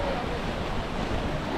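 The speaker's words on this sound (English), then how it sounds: "You can see some of the waves here as well" Ocean waves washing onto Cheoc Van beach in Macau, a steady broadband surf rush with some wind noise, continuous and fairly loud throughout with no distinct breaks.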